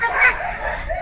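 A dog at a Moroccan dog kennel gives a short bark or yip near the start, with a voice talking around it.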